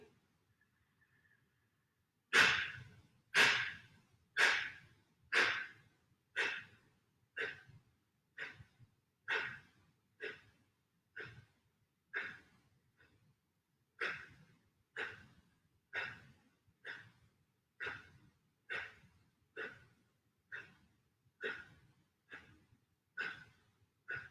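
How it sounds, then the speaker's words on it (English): Kapalbhati yoga breathing: a long run of about twenty-five sharp, forceful nasal exhalations at a steady, brisk rhythm, each a loud close puff, following a brief quiet breath in. "Take a deep breath in for Kapalbhati."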